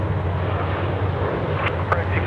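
Cathay Pacific flight 110 takes off from runway 34 left at Sydney Airport, a steady, moderately loud jet rumble with a low drone and a faint breezy hiss.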